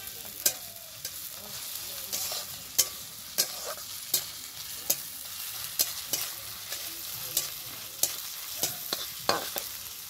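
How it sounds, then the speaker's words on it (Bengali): Onion with ginger and garlic paste stirred and frying in a pan for a Bengali potol khashi curry: steady close sizzle with repeated sharp spatula scrapes and clicks in an irregular rhythm, no talk. "এবার দিয়ে দেবো আদা আর রসুন বাটা। এবার এটাকেও একটু কষিয়ে নেব"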